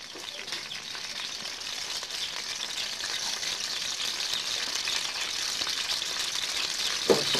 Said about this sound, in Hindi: हिलाएं और सुनहरा होने तक इसको पकने दें।